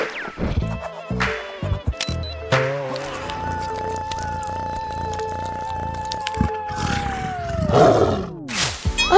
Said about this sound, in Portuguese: Não, fomos vistos pelo tigre!